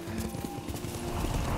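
Horse hooves clip-clopping at a steady riding pace in Ghost of Tsushima, a rapid rhythmic thudding close up over a low background rumble.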